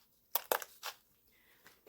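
Crushed glass for a resin craft is handled in a few quick, crisp crunching and rattling bursts, close and fairly quiet, with short gaps between.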